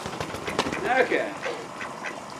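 Ducks quack in a short burst of nasal calls at close range beside a garden pond during a spring clean-up, with voices talking over them.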